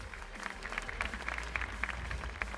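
A round of applause from the audience at a motorsport championship's 2026 season launch event: soft, fairly distant clapping that holds steady for a couple of seconds, with a faint murmur of voices.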